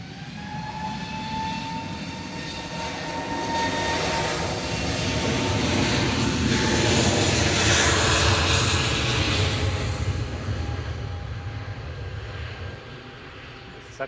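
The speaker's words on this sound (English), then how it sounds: "It's the second time we've seen this one depart today." An airliner departs Manchester Airport, its engine roar swelling from moderate to loud around the middle and then easing off, a broad steady rumble heard from a distance.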